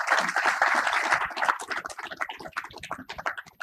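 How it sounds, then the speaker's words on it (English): An audience at a technical session on mass transit financing applauds the panelists, with brisk, close clapping that is full at first and then thins into scattered claps over a few seconds. "please give a big round of applause to them"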